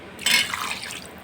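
Water poured into a pot of soup while cooking, a short splashing liquid rush that starts abruptly, stays close and moderately loud, then tapers off within about a second.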